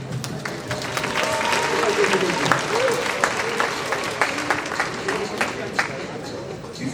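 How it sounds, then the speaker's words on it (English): An audience at a youth summit event applauds in a sustained burst of dense hand clapping that fills the room, with a voice audible over the clapping. "Let's clap our hands first and embrace the positivity today."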